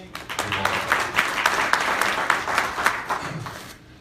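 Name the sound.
applause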